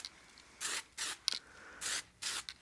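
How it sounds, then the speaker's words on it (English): Several short bursts of spray lacquer hissing from a can onto a turned wine glass, about five quick sprays with brief pauses between them, close and crisp. "I don't want to go too heavy on the spray lacquer"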